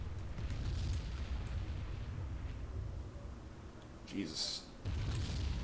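A torpedoed tanker explodes in the submarine game Silent Hunter 3, a low, rumbling boom that rolls on under continuous noise, with a brief burst near the end, while a voice speaks over it.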